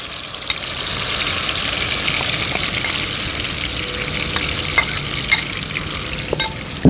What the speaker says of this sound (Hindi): तो चिकन को एंटर करते हैं तेल में।